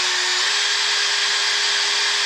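An engine valve from a 1975 Honda CB200T spinning in a power drill, a steady high-pitched motor whine with a constant tone, loud and close, no talk.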